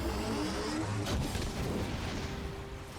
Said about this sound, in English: I'm firing my lasers.